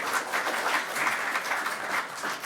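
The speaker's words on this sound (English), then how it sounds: "let you have that applause." An audience at a Surrey election debate night applauds a speaker named Helena, a steady dense wash of many hands clapping throughout, close and fairly loud with no voices over it.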